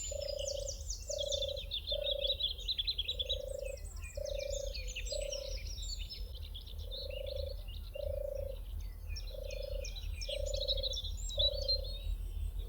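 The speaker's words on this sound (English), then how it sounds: "a turtle dove, and even managed to get it calling." A turtle dove in British countryside gives its soft, purring call in a steady series of short, evenly spaced phrases, while smaller birds twitter and chirp in the background.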